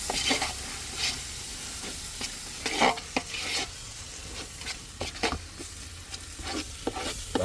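Biryani masala with garam masala is stirred in a pot over heat, producing a steady sizzle and hiss punctuated by repeated scraping strokes of the spoon, close and without speech.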